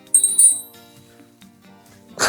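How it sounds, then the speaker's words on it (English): Two or three bright metallic clinks ring out early, small objects landing in a ceramic or metal dish, then a quiet pause and a brief rustle at the end. "I love this little dish for my rings because of the sound it makes."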